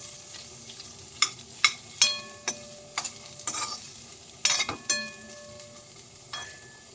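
Carrots frying in a pan for carrot chutney, a low sizzle broken by repeated sharp scrapes and clinks of a spatula stirring against the pan, close and irregular, with no voices.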